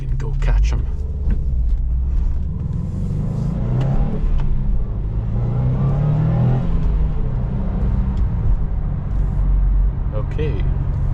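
A 400-horsepower Subaru STI accelerates hard from inside the cabin, its loud, steady engine rumble and rising drone continuous throughout while people talk over it.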